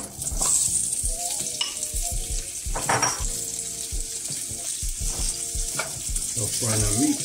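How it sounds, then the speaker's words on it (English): Chopped leftover ham and hot dogs fry in a pan, a crackling sizzle under repeated scraping and clinking of a utensil stirring against the pan, close and busy throughout. "So frying our meat"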